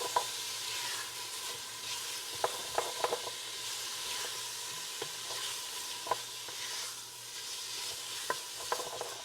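An olive-wood spurtle stirs baked bean sauce in a pan, giving repeated soft scraping clicks against the pan over a steady low sizzle and hiss, close and fairly quiet, with no talking.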